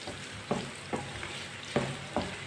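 A pan of sliced tinda (round gourd) frying on the stove gives a steady close sizzle, broken by five spoon scrapes and knocks against the pan at irregular intervals as the pieces are stirred.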